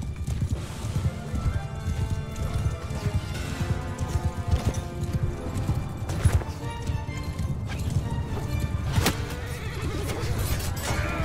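Around forty mounted riders in the Mount and Blade 2 video game charge together, producing a dense unbroken rumble of many galloping hooves with horses whinnying and neighing above it, loud and sustained, with brief faint voices.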